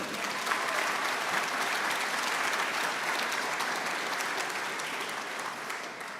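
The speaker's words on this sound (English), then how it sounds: "So let's give them a round of applause." Sustained applause from a banquet audience at the Georgia PGA awards dinner, a dense, steady wash of clapping that holds at an even level throughout and eases off only slightly near the end, with no talking over it.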